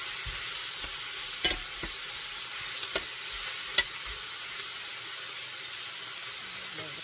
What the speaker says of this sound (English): So we're starting to brown our meat a little, so that's a good sign. So now we gotta stir more.